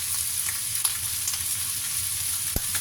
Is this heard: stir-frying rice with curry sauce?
yes